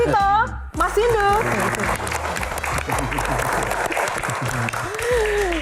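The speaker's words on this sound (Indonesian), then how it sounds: "tepuk tangan lebih meriah lagi" Audience applause at an Indonesian concert Q&A show, a loud sustained burst of clapping across the whole stretch, with a host's voice and crowd voices rising over it.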